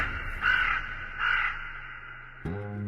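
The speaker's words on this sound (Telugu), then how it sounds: "కాకి ఈ రోజు ముద్ద పెట్టలేదమ్మా?" A crow caws twice in clear, fairly loud calls, alone against a quiet background before a brief tonal sound cuts in at the end.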